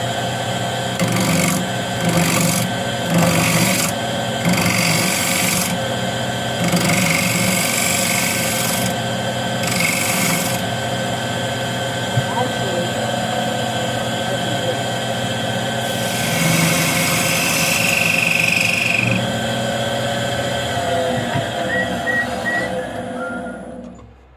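A spindle gouge cuts a wooden box lid spinning on a lathe, giving a steady whirring hum broken by repeated scraping, hissing bursts as the tool engages the wood, loud and close throughout.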